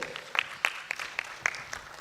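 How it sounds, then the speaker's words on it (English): An audience at a constitutional anniversary forum breakout session claps, a sparse scatter of distinct handclaps at a fairly regular pace, moderately near and modest in volume, with no crowd cheering. "A round of applause for Joe."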